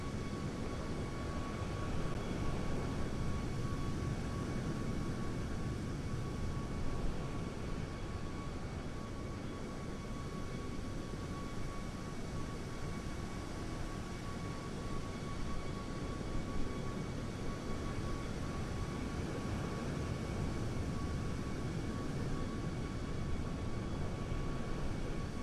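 Steady low rumble of an airliner on final approach to land, a Fenix A319 or iFly 737 in Flight Simulator 2024, a continuous engine drone with a faint tonal whine, even and unbroken with no talk.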